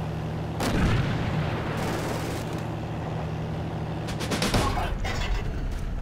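A German anti-tank gun fires in the WWII shooter Darkest Hour, St Clement assault, with heavy booming blasts and a rumbling battle din, one loud report early and a cluster of sharp shots near the end.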